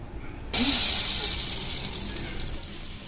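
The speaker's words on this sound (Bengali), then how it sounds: "এবার এটাকে আমি ডালের ভেতর ঢেলে দিচ্ছি।" Fried garlic tempering poured into hot lentil dal sets off a sudden loud, steady sizzling hiss that starts abruptly and slowly fades, close up.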